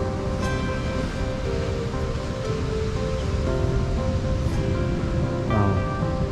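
Surf at Seruni beach in Donorojo, Pacitan, Indonesia: a constant broad wash of waves, with a low rumble underneath and a few faint higher tones layered on top, no voices.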